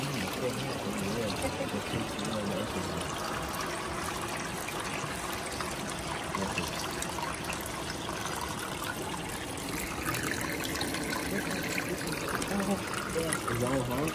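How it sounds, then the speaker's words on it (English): Hot spring water pours and splashes out in a steady, close, continuous rush that stays at the same level throughout, with a voice faintly mixed in under the flow. "Hot water coming out."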